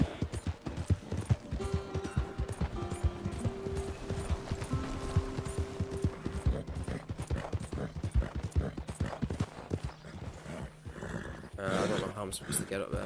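Steady clip-clop of a horse's hooves in Red Dead Redemption 2, with close rhythmic hoofbeats running throughout, game music and snorting mixed in, and a voice briefly over the top.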